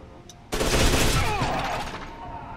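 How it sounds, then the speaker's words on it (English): Machine gun fire in the shooter F.E.A.R. 2 bursts in as a loud, dense rattle of rapid shots, then trails off into echoing, reverberant noise as the firing fades, with no voices. "I have a freaking machine gun"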